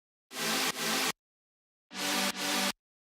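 Future bass synth track processed with reverb and delay: two pairs of bright, loud chord stabs with soft, lingering tails, playing alone with silence between the pairs.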